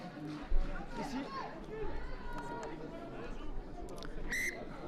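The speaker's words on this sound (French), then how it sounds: "l'arbitre qui siffle un ralentissement du tenu" A referee's whistle sounds during a U19 rugby match between Villeneuve and Carcassonne. It gives a brief sharp blast near the end, heard over steady crowd chatter and commentators' talk.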